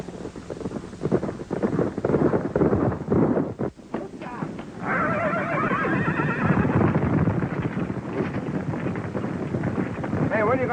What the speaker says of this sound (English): As soon as Ward gets through checking these horses